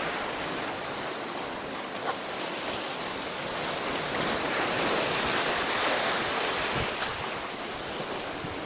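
Open-sea waves wash onto a remote white-sand shore, a steady roar of surf that swells slightly in the middle, with wind buffeting the microphone throughout and no voices.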